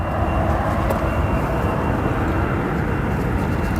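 A United Boeing 777 departing O'Hare International produces a loud, steady broadband jet roar that holds constant and close throughout, with no voices.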